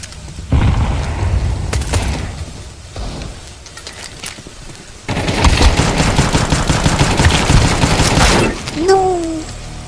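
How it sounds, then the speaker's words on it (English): Grenade thrown and detonating in a video game, a loud close blast amid dense bursts of rapid automatic gunfire and clattering mechanisms, with a faint voice now and then. "Throwing grenade."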